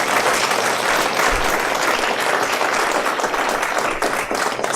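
A conference audience applauds steadily, dense clapping filling the room for several seconds with no break, loud and close.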